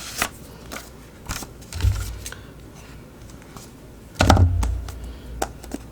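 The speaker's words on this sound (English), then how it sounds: "Okay, and then I'll cut off the excess." Excess paper is trimmed from a washi-tape collage envelope in a series of sharp, close snips and small taps, spaced irregularly with a couple of louder thumps, in an otherwise quiet room.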